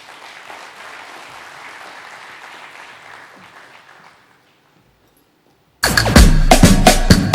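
Conference audience bursts into loud, dense applause after a quiet stretch of faint room noise, the clapping starting abruptly and staying full and steady at the blockchain conference.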